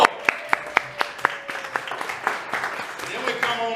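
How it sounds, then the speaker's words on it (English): A game show audience claps for a married couple, a burst of sharp, evenly spaced claps near the start settling into looser applause that fades as a voice speaks over the end. "Give them a round of applause."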